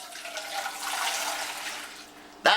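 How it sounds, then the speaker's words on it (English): About one and a half cups of water pour into a rice maker as a short, gurgling splash, ending with a sharp clack. "Now here we put the water in just like this."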